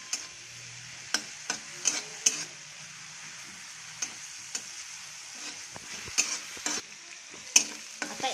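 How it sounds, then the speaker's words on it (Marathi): A paste of green chili, garlic and ginger fries in a pan, with steady sizzling under repeated scraping and clinking stir strokes from a spoon, close up and with no voices. "हिरवी मिरची, लसूण आणि अद्रकची पेस्ट करून टाकते। याला 1 मिनिट आपल्याला फ्राय करून घ्यायचं आहे।"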